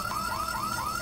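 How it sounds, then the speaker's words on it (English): A warbling electronic alarm blares from the video game Bully, a steady, fast-wavering high tone that holds loud and unbroken throughout, with no voices. "The alarm sound is really stressful."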